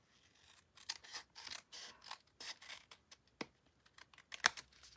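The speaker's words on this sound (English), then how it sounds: "all I'm going to do is just trim it." Scissors trim paper with a series of crisp, close snips and slicing rasps in an uneven rhythm, quiet overall with a few sharper clicks and no talking.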